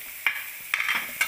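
Spring onions frying in a pan for aloo paranthas, stirred in three quick, close scraping strokes over a soft, steady sizzle.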